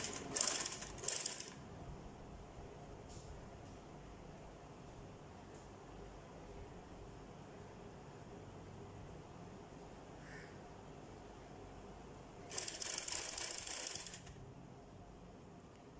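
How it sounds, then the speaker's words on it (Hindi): A sewing machine stitches a folded trouser hem strip, running as a steady low mechanical whir throughout, with louder bursts of stitching at the start and again near the end. "इन दोनों सिरों को पकड़ते हुए यहाँ से हम सिलाई लगाना स्टार्ट करेंगे"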